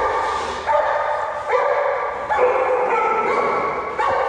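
An excited Irish Setter barks and yips in short bursts, close by and repeated, with some whimpering between the barks.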